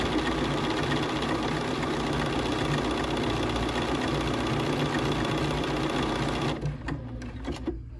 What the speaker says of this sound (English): You can of course use your foot control when you're doing these decorative stitches.